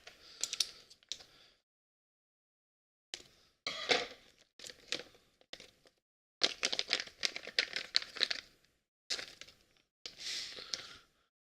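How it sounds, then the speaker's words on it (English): Scissors snip and crinkle through paper in short, crisp bursts separated by silent pauses, close to the microphone and quiet overall. "I'm gonna take my scissors to it"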